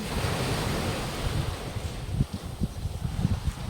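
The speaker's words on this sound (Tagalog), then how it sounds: "Lakas ng alon." Strong sea waves surge and crash close by at the shore, a steady roaring wash with rhythmic low thumps of surf and wind buffeting the microphone, no voices.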